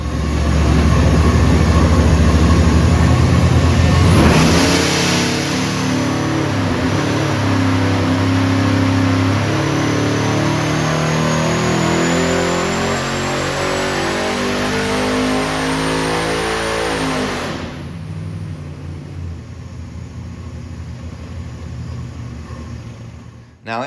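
Truck engine running an E85 tune on a dyno pull, loud roar rising steadily through the revs for several seconds, then cutting off abruptly into quiet near the end.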